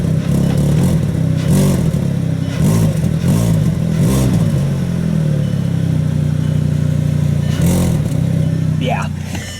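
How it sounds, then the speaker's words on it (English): A loud, steady engine idle of a 2010 Volkswagen Jetta SportWagen 2.5 with a starting exhaust leak: low rumbling drone and periodic puffing ticks, with a person talking over it throughout. "this thing has an exhaust leak starting, as you can tell, but yeah, still sounds good."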